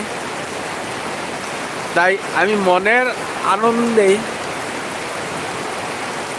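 Rain falls steadily at night around 11:30, heard from a house window as a constant soft hiss, while someone speaks briefly over it in the middle.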